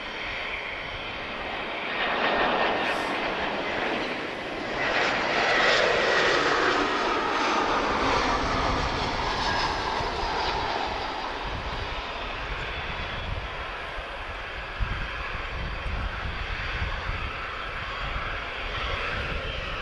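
EasyJet Europe Airbus A320-214 landing at Lisbon Airport in a persistent crosswind, its engines a steady broad roar that swells and eases over twenty seconds, fairly close and heard alone without talk.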